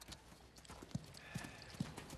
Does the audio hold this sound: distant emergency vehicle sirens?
no